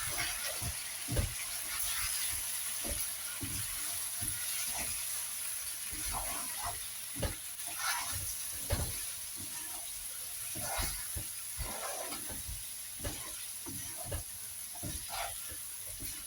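Spices sizzling in hot oil in a karahi while chicken karahi is cooked, with turmeric and crushed chilies added; a steady bright hiss runs throughout, broken by scattered spatters and stirring clicks.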